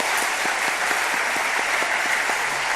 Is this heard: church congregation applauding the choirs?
yes